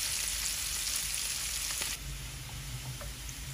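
Cardamom, cinnamon and ginger-garlic paste frying in hot oil give a constant close hiss that drops a little partway through, with faint scrapes of stirring.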